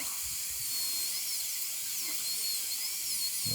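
A high-speed dental drill with a burr whines steadily and close while cutting a tooth for a porcelain-fused-to-metal crown prep with a chamfer margin, its pitch wavering slightly as it works.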